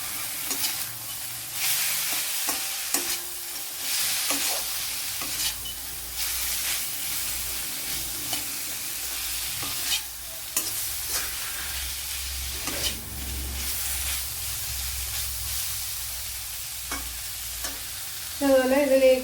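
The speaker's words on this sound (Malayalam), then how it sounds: "ഇവിടെ സവാള നല്ലതുപോലെ വഴണ്ടിട്ടുണ്ട്. അതിലേക്ക് ഈ ക്യാരറ്റ് ഇട്ട് കൊടുക്കാം." Onions and carrots sautéing in a pan for vegetable biryani, a constant close sizzle and hiss broken by repeated scraping stirs of a spoon against the pan.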